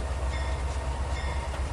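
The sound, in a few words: train locomotive running in Trainz 2019 video game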